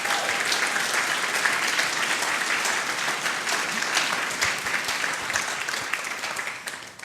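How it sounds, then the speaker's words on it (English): An audience claps steadily and loudly throughout at a university startup demo day in Oxford, a dense sustained applause with no voices standing out, tapering slightly at the end. "Give them a clap, please."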